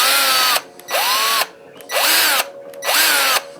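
Ryobi PDD209KSB cordless drill motor whines up in four short, loud bursts, each spinning up to a high pitch and then cutting off, with brief quiet gaps between them.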